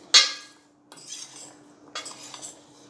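A spoon scrapes and clinks against a pan while spiced okra (bhinda) in oil is tossed to bring the masala up from the bottom: one sharp clink, then two softer rasping strokes, close and without voices.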